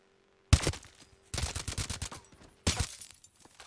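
Gunshots in Call of Duty: Advanced Warfare on PC: three loud, abrupt bursts of rapid fire, the middle one longest, separated by brief near-silence.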